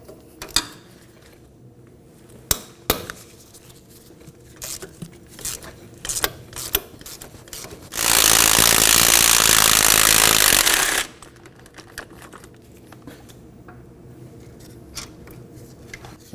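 17mm hub assembly mounting bolts being removed on a 2013-2019 Nissan Sentra front wheel hub, a loud continuous burst from a power tool lasting about three seconds, set between scattered metallic clicks and taps in a quiet garage.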